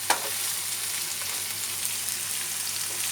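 Prawns hiss and crackle in a hot pan as they are stir-fried with garlic, a constant close sizzle marked by a few light stirring knocks.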